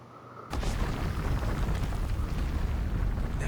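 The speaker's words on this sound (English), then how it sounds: "An earthquake." A sudden deep rumbling roar in the Scarlet Nexus video game, an earthquake shaking the ground, sets in abruptly after a quiet moment and holds as a loud, dense, continuous low rumble with no talk.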